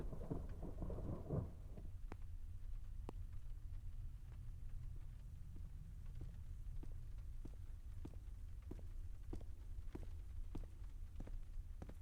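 Steady rain with low rumbling thunder in the video game Memento Mori, a continuous wash of downpour under distant rolling booms and scattered sharp drip-like ticks, with no one talking.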